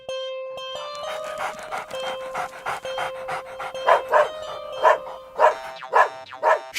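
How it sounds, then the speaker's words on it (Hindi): A dog close by pants in quick, rhythmic breaths, with short whiny vocal bursts that grow stronger toward the end. "क्यों भौंक रहे हो?"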